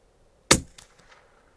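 A single sharp rifle shot fired with Eley subsonic 38-grain hollow point ammunition at 50 yards, a loud close crack with a short decaying tail and faint echoes, no talking.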